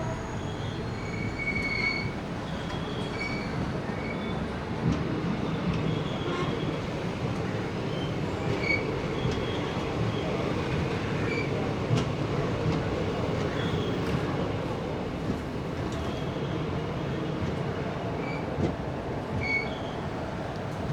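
An Intercity Express train running from Angadippuram to Ernakulam, heard from on board as a steady rolling rumble of wheels on rails with faint repeated high squeals and clicks throughout.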